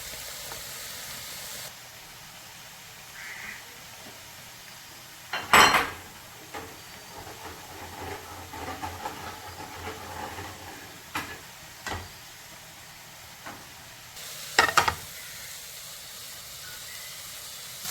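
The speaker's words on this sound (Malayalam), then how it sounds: "സവാള നന്നായിട്ട് വഴന്ന് വന്നിട്ടുണ്ട്" Onions sauté in a pan for an egg roast with a soft, steady sizzle, broken by occasional clanks of a spatula or spoon against the pan.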